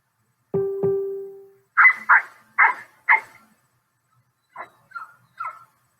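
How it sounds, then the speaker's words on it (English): A dog playing with a Jack Russell puppy gives a couple of sharp barks, then a run of short yips and whimpery vocalizations in quick bursts, fairly close and alone with no talking. "Look how our dog Pippa is playing with the Jack Russell puppy."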